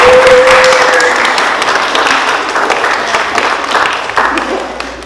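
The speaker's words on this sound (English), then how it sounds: "If you want to give a round of applause to welcome them here tonight." Loud, dense applause from an audience at an art exhibition talk fills the whole stretch, steady and close, with a faint tone near the start and the clapping easing slightly at the end.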